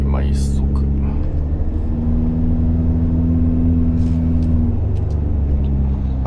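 A Mitsubishi Delica D:5 accelerates in first gear on an expressway, its engine droning loud and steady inside the cabin with a rising tone, as a voice briefly speaks over it.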